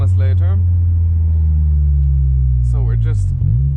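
A Honda S2000 sets off on a mountain drive, its engine a steady low drone heard from inside the car while someone talks over it in short bursts.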